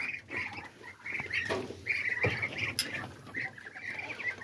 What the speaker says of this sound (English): Some baby duckies. Got them in here till they get a bit bigger.